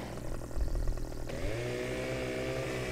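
Chainsaw in the video game Farming Simulator, a rattling idle that revs up into a steady high-pitched buzzing whine, loud and close, with no talk.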